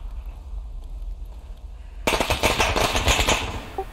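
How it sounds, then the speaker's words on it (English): Rapid machine gun fire from a Vietnam war video game erupts halfway through, a dense, loud, continuous burst following a quieter stretch of background game ambience. "Stay on the machine gun, I got this."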